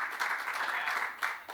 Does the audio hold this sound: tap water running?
no